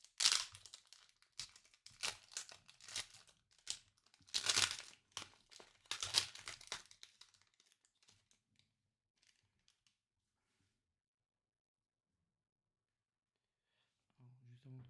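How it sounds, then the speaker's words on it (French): A trading card booster pack wrapper being torn open by hand, with close crinkling and ripping in bursts over several seconds, then quiet. "Ah, le booster qui ne veut pas s'ouvrir correctement."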